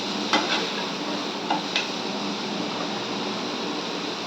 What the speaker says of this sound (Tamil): வெங்காயம் வதங்கிக்கும்